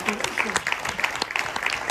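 Congregation applause during a church service, brisk clapping from a gathered crowd with voices mixed in, sustained and fairly close throughout.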